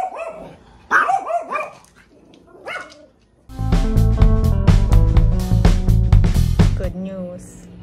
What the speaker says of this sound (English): Guys, check out our guard dogs.